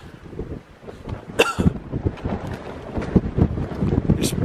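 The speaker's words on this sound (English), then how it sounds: "the wind up here is absolutely horrendous" Strong wind gusting on the exposed summit of Waun Fach in the Black Mountains, Brecon Beacons, buffeting the microphone with uneven roaring surges and rustling throughout.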